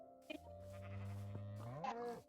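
A single sheep on a farm gives one drawn-out bleat, close and clear, its wavering cry rising at the end before cutting off.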